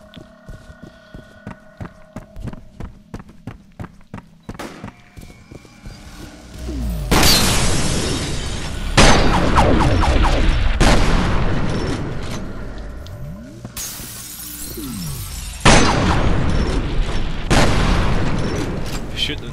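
Heavy gunfire and booming explosions from the shooter game F.E.A.R., starting with scattered sharp shots, then loud sustained bursts of fire and blasts in several long waves close up, with a brief lull between them.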